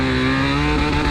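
Big motorcycle with a 90/90 front tire and a steering stabilizer riding on a road, a loud steady engine drone with a slight rise in pitch, close and continuous for about a second.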